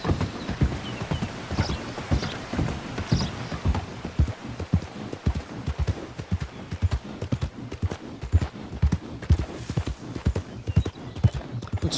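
Horse hooves clip-clop steadily and loudly while riding in Red Dead Redemption 2, a continuous galloping rhythm over a rumbling outdoor game soundscape.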